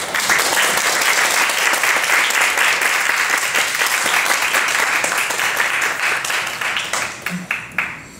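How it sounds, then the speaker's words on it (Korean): Loud, sustained applause from an audience welcoming a lecturer to a talk, a thick wash of many hands clapping that holds steady and tapers off near the end. "큰 박수로 환영해 주십시오."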